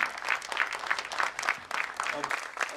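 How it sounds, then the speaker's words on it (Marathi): Audience applause at a world record ceremony, a steady burst of many hands clapping that fills the room, fairly loud and close, with brief surges and dips throughout. "टाळ्या जोरदार होऊ दे, अगदी मुसळधार पावसासारख्या"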